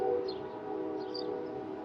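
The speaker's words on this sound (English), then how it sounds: "You can hear a train in the background." A train passes in the distance, a low steady rumble with horn-like tones, sitting beneath wind chimes and birdsong in a quiet outdoor garden.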